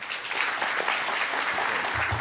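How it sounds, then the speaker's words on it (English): Audience applause at a White House forum on mental health, a steady wash of clapping from a crowd heard for a couple of seconds at moderate level. "Let's give them another round of applause."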